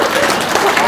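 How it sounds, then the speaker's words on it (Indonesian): Brief burst of audience applause during a live-streamed religious talk show, a short dense wash of clapping with voices mixed in. "Tepuk tangan dong."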